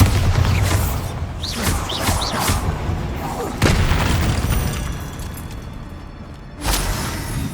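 Bombarda spell blasts in Hogwarts Legacy inside an eerie tomb, loud booming bursts at the start, near four seconds and again near the end over a dense rumbling game backdrop.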